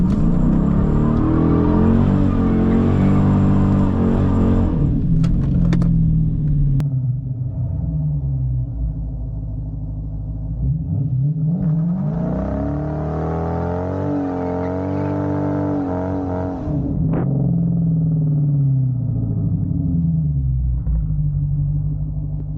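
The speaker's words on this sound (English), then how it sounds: "Don't tell nobody I try to do a burnout in second gear." A Dodge Challenger R/T in a second-gear burnout attempt, loud close engine roar with rising and falling revs, rumbling drone and bursts of hissing tire noise between shifts.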